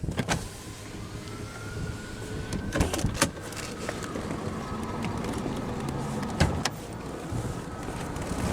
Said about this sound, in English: now we'll roll down the driver's window and have a look at the engine bay